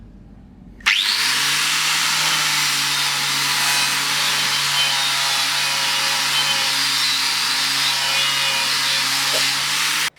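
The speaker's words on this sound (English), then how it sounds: "I'll show how to remove the powder coat from this piece of steel" A Josco Black Strip-It disc on a power tool grinds powder coat off a piece of steel, starting abruptly and holding a loud, steady abrasive whine with a droning motor hum for about nine seconds before cutting off.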